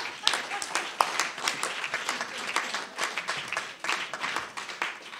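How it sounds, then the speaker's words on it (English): A crowd applauding steadily, dense clapping that holds for several seconds at an even, moderate level. "A round of applause."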